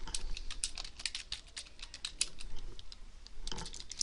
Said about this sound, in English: So next you want to do is start typing your navigation